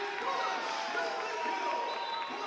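Crowd noise fills a college volleyball gym during a tight fifth set, UCCS against Colorado Mesa, a steady loud roar under an announcer's voice.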